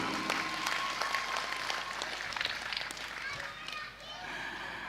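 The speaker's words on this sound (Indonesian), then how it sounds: "Tepuk tangan untuk Akim" Audience clapping at an Islamic gathering, a moderate, fairly quiet patter of applause with speech and crowd noise mixed through it, easing toward the end.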